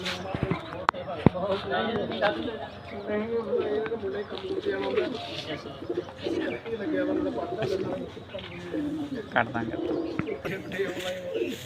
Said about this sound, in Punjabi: ਇਹ ਕਬੂਤਰੀ ਹੈਗੀ ਆ